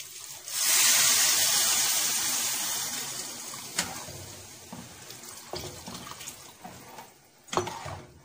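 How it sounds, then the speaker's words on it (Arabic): Hot water poured from a height onto sautéed rice in a pot for Egyptian rice, a loud gushing pour that swells at the start and slowly tapers, followed by softer splashes and sizzling with a few sharp clinks. "هبدا اضيف الميه له، الميه السخنه."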